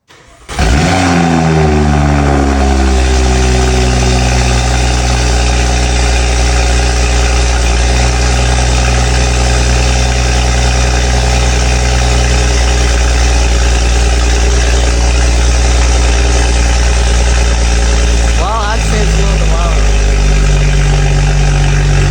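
A BMW 335 with a catless downpipe cold-starts with a sharp crank and catch, a rev flare that settles into a loud, steady, deep idle droning close by, and a brief blip near the end.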